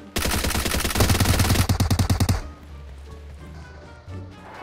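Gunfire in the mobile battle royale game PUBG Mobile: a loud, rapid automatic burst of shots close by for about two seconds, then a quiet tail with faint game ambience.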